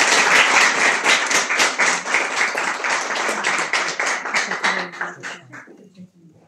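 An audience at a company's first anniversary event claps in a dense burst that holds steady, then thins and fades away over several seconds.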